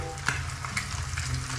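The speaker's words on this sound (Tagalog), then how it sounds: "Puro free tayo ngayon. Prito. Prito musda. Prito itlog." Fish and eggs fry in a pan with a steady, close sizzle and crackle, broken by a few sharper pops and scraping stirs, with no talking.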